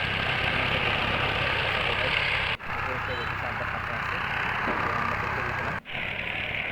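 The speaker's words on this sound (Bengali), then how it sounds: "তো আজকে সেখানে পাওয়ার টিলার দিয়ে হাল করতেছি।" A power tiller plowing a paddy field drones steadily at a constant pitch under someone talking, with two brief cuts in the sound.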